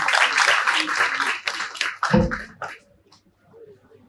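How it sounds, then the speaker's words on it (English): Audience applause at an academic conference honoring the organizing committee, a dense burst of clapping that swells, fades out after about two and a half seconds and leaves near silence. "So a big round of applause for the entire organizing committee"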